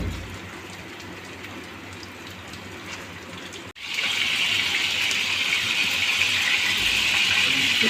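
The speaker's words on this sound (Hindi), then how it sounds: "ऑयल गरम कर और ये हम अपने पेटी कबाब डालते जाएंगे" Beef patty kebabs sizzle steadily in hot oil, a continuous hiss that grows louder and brighter midway as more patties go into the pan, with a brief dip at the moment of adding.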